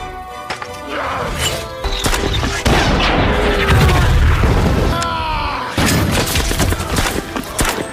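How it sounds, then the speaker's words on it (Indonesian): German mortar fire in a war film set during a Russian squad's defense of a building: repeated heavy booms and crashing impacts pile up into a loud, dense barrage with rumbling debris between blasts. "Tiba-tiba, mortir Jerman ditembakkan."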